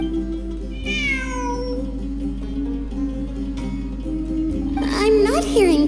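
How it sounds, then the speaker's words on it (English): A cat meows in the video game Genshin Impact, a clear meow early on and another longer, wavering meow near the end, over a steady low background hum and bits of talking. "It really is a cat."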